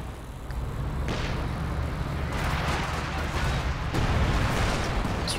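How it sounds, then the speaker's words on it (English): Artillery lobbing high-explosive shells at a Panzer IV in Company of Heroes 2 booms and rumbles continuously, with sharper blasts landing around a second, near two and a half seconds and at four seconds, under a dense battle din. "152 was shooting HE shots at the Panzer IV"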